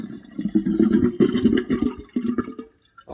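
A cleared kitchen sink with a garbage disposal drains in gurgling, bubbling surges of water that come and go in bursts, close by and moderately loud, with no talking.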